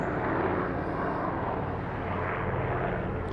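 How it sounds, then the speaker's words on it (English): An aircraft engine drones continuously, a broad steady roar that stays loud and even from start to finish with no voices. "disturbed by a helicopter"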